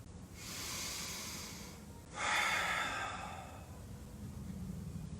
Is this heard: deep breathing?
yes